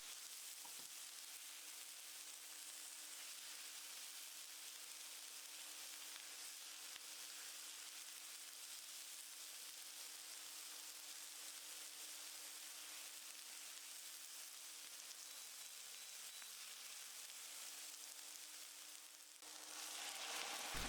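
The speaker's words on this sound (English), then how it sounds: "I'm cooking the onions until they're softening up a bit and add" Onions and garlic frying in a pan for a chanterelle risotto, a steady soft sizzle that runs continuously with a faint low hum beneath, close and alone.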